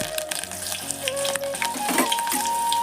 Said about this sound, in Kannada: ಸಾಸಿವೆ ಚಟಪಟ ಅಂದವು